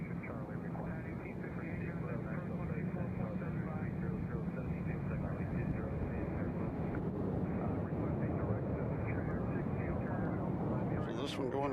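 A fixed-wing jet airliner departing Nashville International Airport, its engines a broad, continuous roar that holds steady throughout, heard from a distance as a faint, even rumble with no voices.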